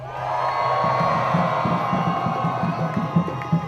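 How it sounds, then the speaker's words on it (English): A large crowd at a pro-Palestine protest outside San Francisco City Hall cheers and shouts continuously, a dense roar of voices with scattered whoops, sustained and fairly loud. "Now Palestinians in the crowd, make some noise."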